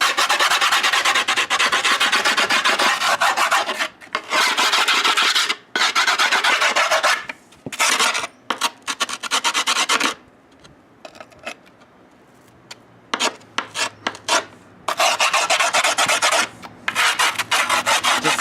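A file rasps along the edge of a board in long, loud, close strokes, broken by pauses and a few lighter scrapes and knocks, with no speech.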